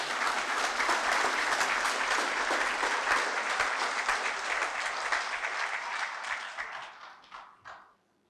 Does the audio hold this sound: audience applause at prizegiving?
yes